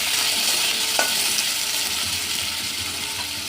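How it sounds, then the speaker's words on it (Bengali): Small diced potato cubes fry in oil tempered with dried red chilli and nigella seeds, giving a close, steady sizzle with a scraping stir and a brief clack of the utensil early on. "আলুটা অল্প ভেজে নেব।"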